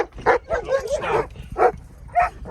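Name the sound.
dog whining and barking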